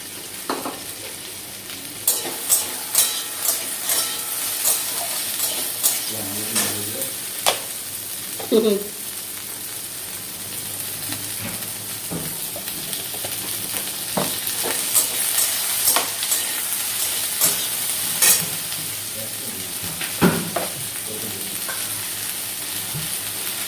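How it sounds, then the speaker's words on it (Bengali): Okra frying in oil sizzles steadily in a pan, with intermittent stirring clinks and scrapes scattered throughout, close up and without talk. "এরপরে এই তেলটা দিয়ে আমি ভেন্ডি কটা ভেজে নিই"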